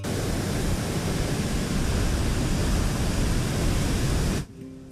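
Strong gusting wind whipping around a gas station in Torrance during a wind advisory, a loud, steady roaring rush buffeting the microphone for several seconds before cutting off abruptly to quiet near the end.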